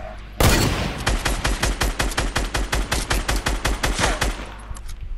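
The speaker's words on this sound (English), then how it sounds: "Quick. Watch. You're being sniped." Rapid bursts of gunfire from a sniper in a video game, a loud rattling volley of many shots in quick succession that begins suddenly and runs for several seconds before fading.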